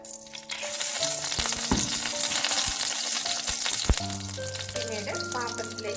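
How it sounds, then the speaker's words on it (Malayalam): Mustard seeds splutter in hot oil, sizzling and crackling loudly and continuously, with scattered pops and a few clanks of a utensil against the pan. "അതിലേക്ക് കുറച്ച് കടുക് കൂടിയിട്ട് പൊട്ടിക്കുക"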